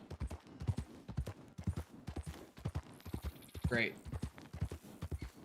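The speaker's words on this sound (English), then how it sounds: "Sound of your horse's hooves being burned into your brain." Horse hooves clip-clop in a steady rhythm in the Red Dead Redemption 2 video game, close and clear, with a brief whinny midway and a voice speaking briefly over it.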